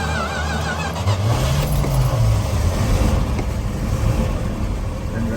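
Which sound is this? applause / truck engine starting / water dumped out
truck engine starting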